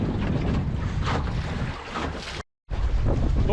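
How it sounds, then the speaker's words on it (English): Strong wind buffeting the microphone aboard a sailboat, a loud continuous rumbling roar with brief gusts, cut by a short dropout before resuming. "Oh, a little bit of wind."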